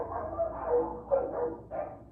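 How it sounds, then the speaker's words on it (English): Neighbourhood dogs bark and yelp in an agitated scuffle, rough overlapping barks rising in several bursts at moderate distance, sounding like a dog fight. "You hear the dogs barking?"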